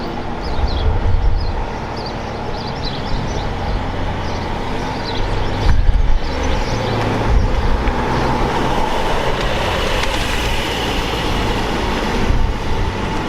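Cars arriving at the Rallye du Coeur charity rally in Lyon, with engines rumbling and traffic passing steadily at mid distance, a continuous loud vehicle roar with occasional louder surges and no talk.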